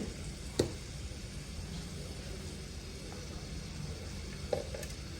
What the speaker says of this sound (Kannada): ಎಣ್ಣೆ ಸ್ವಲ್ಪ ಬಿಸಿ ಆಗ್ತಿದ್ದಂಗೆ ಹಾಗೆ ಕಾಲು ಚಮಚದಷ್ಟು ಸಾಸಿವೆ ಕಾಳನ್ನು ಸೇರಿಸ್ಕೊಳ್ತಾ ಇದ್ದೀನಿ